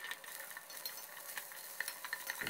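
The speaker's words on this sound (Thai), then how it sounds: "ให้เราคั่วเครื่องสมุนไพรให้แตกกลิ่นหอมเลยครับ" Sliced galangal, ginger, crushed coriander root and crushed garlic stir-fried in oil, a soft continuous sizzle with light scraping and clinking of a spatula in the pan, close and steady.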